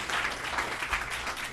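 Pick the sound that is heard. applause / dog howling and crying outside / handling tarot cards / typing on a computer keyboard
applause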